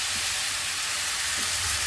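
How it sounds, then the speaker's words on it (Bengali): Grated tomato hits hot oil already holding turmeric and Kashmiri red chili powder, in an onion-free, garlic-free vegetable navratan korma. A steady, dense sizzle hisses evenly throughout, with no talking. "গ্রেট করে রাখা টমেটো এর মধ্যে অ্যাড করে দেব।"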